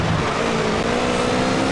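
Motorbike engine from a racing video game, a steady loud drone with a continuous whine that holds even throughout the short stretch, with no talk over it.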